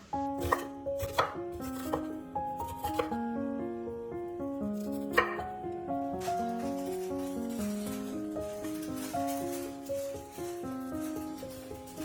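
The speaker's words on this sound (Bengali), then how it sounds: "এখানে পেঁয়াজটাও দেখো লম্বালম্বি করে কেটে নিয়ে এভাবে ছাড়িয়ে নিলাম।" A knife chops vegetables and onion on a board for street-style veg chowmein, giving a few sharp, close cuts over steady background music.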